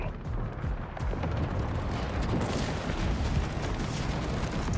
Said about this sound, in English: Explosions are beautiful, by the way.